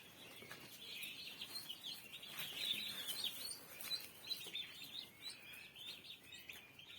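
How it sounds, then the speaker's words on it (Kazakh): A brood of week-old turkey chicks on a poultry farm cheeps in a constant overlapping chorus of high, thin chirps, close by and moderately loud, with no voices. "күрке тауықтың балапандары"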